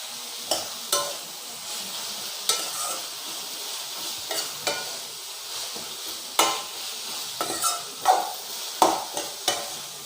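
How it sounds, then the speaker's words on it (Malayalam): Egg roast masala of onions sautéing in oil in a pan, a light sizzle broken by a series of sharp spatula scrapes and clacks against the pan in irregular bursts. "ഇത് വഴണ്ടി വരാൻ ആവശ്യമായ എണ്ണ കുറച്ചും കൂടി ആഡ് ചെയ്തിട്ടുണ്ട്."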